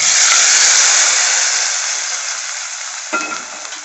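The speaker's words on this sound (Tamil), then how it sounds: "நெய்யை சூடு பண்ணி அதில் முந்திரியை வறுத்து" Steady, loud sizzling of cashews frying in hot ghee, a broad hiss that slowly eases, with a brief stir or clink near the end.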